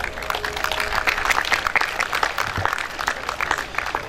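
A crowd claps steadily and enthusiastically, dense applause filling the space without pause.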